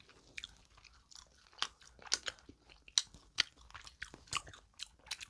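Crispy Paldo bibim bread crunched in close, sharp bites with a steady chewing rhythm, each crackly crunch distinct against a quiet background, with no talking.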